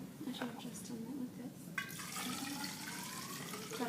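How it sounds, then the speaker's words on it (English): Water pours from a tap into a container until it reaches the spout, a steady close splash and trickle running continuously, with the tone rising as the vessel fills and a voice talking over it. "make sure that the water reaches the spout level"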